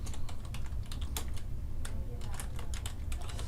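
Computer keyboard being typed on while entering data into a spreadsheet, quick irregular key clicks close up over a low steady background hum.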